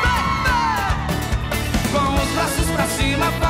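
A concert crowd at a show yells and whoops together on cue, a loud massed shout over ongoing amplified music.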